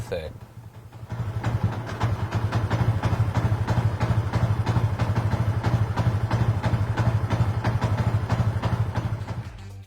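Idle loop preset from an Uma Racing M9 ECU on a stationary motorcycle: after a brief quieter start, a loud, even chain of rapid engine pulses throbs close and steady for several seconds.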